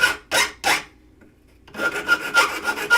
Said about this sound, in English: Little tiny bit more filing because I can.